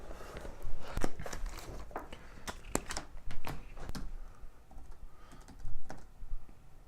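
Credit card details typed on a computer keyboard, a close run of quick, uneven key clicks with short pauses between bursts, alone without talk.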